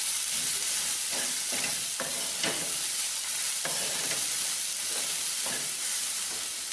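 Grated coconut sautéing in a pan for horsegram chutney gives a steady, close, even sizzle, with soft scraping clicks from the stirring spoon recurring every second or so and no voices.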